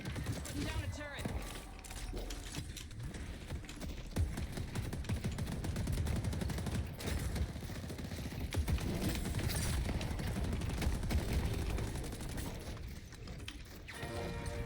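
A deployed turret fires in Deadlock, a steady rattling stream of rapid shots and mechanical clatter running under continuous game noise and a voice talking, fairly faint in the mix.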